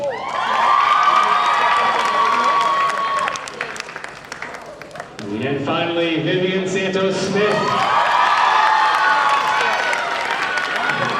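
A gym crowd at a Somerville High School boys' basketball game claps and cheers loudly for the high school dance team. The sustained applause and shouts dip briefly, then swell again while an announcer reads names over the PA.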